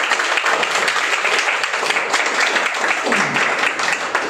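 A room full of people applauds loudly for a team at an award celebration, a dense, continuous wash of clapping that stays strong and even from start to finish.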